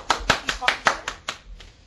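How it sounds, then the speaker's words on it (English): A short burst of applause from a small group at a video conference talk, about eight quick uneven bursts of clapping that fade out toward the end. "I'd like to give him a round of applause"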